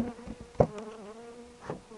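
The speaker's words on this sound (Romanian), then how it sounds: "Este albină frumoasă, sunt miere, cred că e destul." Honey bees in an apiary in Moldova buzz quietly nearby, a droning hum that rises and falls over two seconds.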